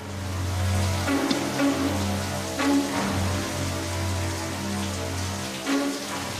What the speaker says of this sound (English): giving a new, eerie association to the sound of a running shower